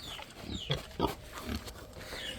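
Pigs on a farm grunt and oink in several short, close bursts over steady outdoor background noise, with no one speaking.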